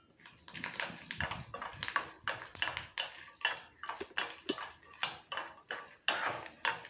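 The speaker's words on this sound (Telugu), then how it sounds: "ఇవి వేయించుతున్నాను ఇప్పుడు చూడండి" A utensil works through village chilies frying in a pan, making a steady run of close, crisp scrapes and clinks about twice a second, with no voices.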